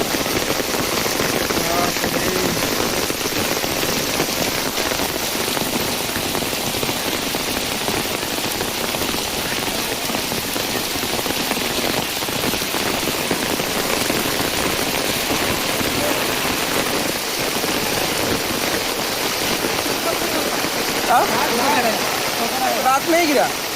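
Heavy rain falls without pause on a flooded village road, a loud, continuous wash of splashing water close around, with someone talking faintly under it.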